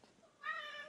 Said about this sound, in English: Yes, yes, the cat Tinder and Manny.